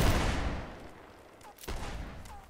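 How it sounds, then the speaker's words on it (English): Line infantry in a Whigs and Tories line-battle video game fire a musket volley: a loud burst of crackling shots that decays, then a few scattered later reports, with a voice faintly present. "Good volley"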